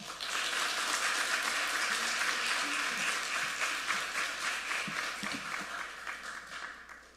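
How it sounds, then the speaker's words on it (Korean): A church congregation applauds to welcome a visiting preacher. The clapping is broad and sustained at fairly close range, then thins and softens slightly toward the end. "우리 나오실 때에 박수로 환영해 주시기 바랍니다."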